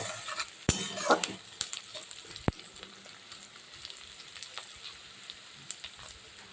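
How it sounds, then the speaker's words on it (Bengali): Sliced onion and slit green chillies fry gently in oil in a pan, giving a faint, steady sizzle and crackle, broken by a few sharp clinks of a utensil against the pan. "এবার আলতো করে এটা ভাজা হবে"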